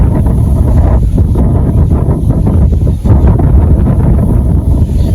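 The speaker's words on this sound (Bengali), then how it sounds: "শো শো শো নিচে বাতাসে" Strong wind gusts across open village fields, roaring continuously and loud into the microphone with a brief lull midway.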